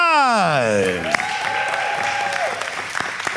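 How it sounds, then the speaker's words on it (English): Audience clapping at a talk on the roles of men and women, a steady patter of applause heard beneath a voice that speaks and holds drawn-out tones over it. "you're clapping now"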